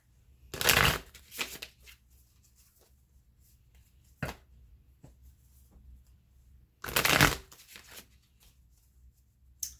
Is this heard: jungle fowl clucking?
no